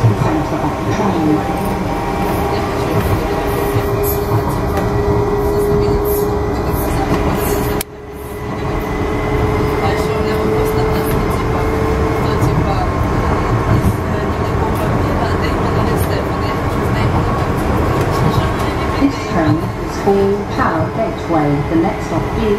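A DLR light-rail train in London runs between Beckton and Tower Gateway, heard from inside the carriage as a continuous rumble and rattle of wheels on track, with a brief dip partway through.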